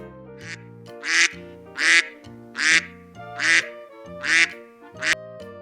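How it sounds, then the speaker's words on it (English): Duck quacking over a light musical backing, about seven loud, evenly spaced quacks in a steady rhythm, close and clear. "Duck."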